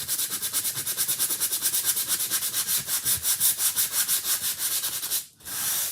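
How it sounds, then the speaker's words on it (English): A wood cutout is hand-sanded in quick, regular back-and-forth strokes, each a close, soft scratchy rasp, continuing steadily before a brief pause and then a final stroke. "Careful when you're sanding or handling wood cutouts."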